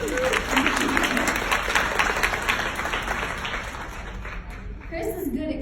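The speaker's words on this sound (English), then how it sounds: "Let's give her a round of applause." An audience at a convention applauds in a sustained burst of clapping that fills the hall and fades near the end, while a voice carries over it.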